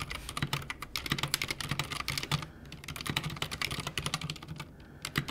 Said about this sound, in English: Here, have a listen to the Keychron K6.